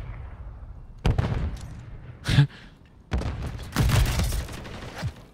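A grenade explodes in the Call of Duty multiplayer game, a heavy booming blast followed by more bursts of gunfire and thuds in a busy firefight.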